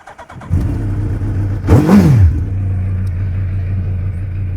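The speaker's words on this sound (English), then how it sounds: "We're going to start your bike up." A superbike, a Hayabusa, starts up at a dealership handover, catching after a few cranks and settling into a steady idle with one sharp rev that rises and falls, close and loud, with no talking.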